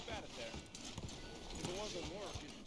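Horse hooves clip-clop in a rhythmic, moderately close patter in Red Dead Redemption 2, with a voice speaking over the steady gait.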